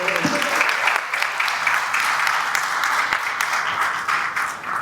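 An audience at a chamber of commerce awards celebration claps for Linda and Lindsay, sustained dense applause from a sizable crowd, with a faint voice briefly at the start.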